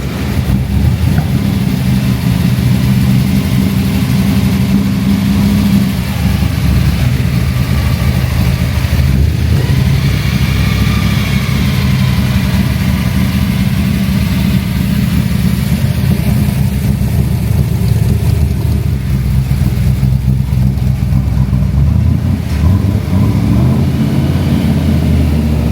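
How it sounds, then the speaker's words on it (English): A replica Mad Max Road Warrior car engine runs loud and close for a long stretch, a dense rumbling drone with mild rises and falls in revs and no talking over it. "We're just going to fire the car up."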